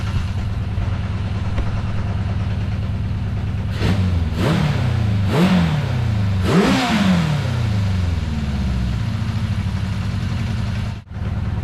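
A Kawasaki Z550 motorcycle engine ticks over with a slightly lumpy, uneven idle, broken midway by three or four quick throttle blips before settling back to a steady close-up rumble.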